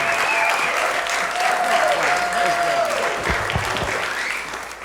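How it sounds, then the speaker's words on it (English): A comedy club audience claps warmly at the end of a stand-up set, the dense applause holding steady and then tapering slightly near the close. "one more round of applause"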